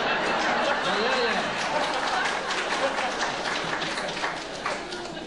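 Audience clapping at the official opening of St Johns National School in Breaffy, a dense steady patter of many hands sustained throughout, mixed with background chatter and crowd murmur, fading slightly toward the end.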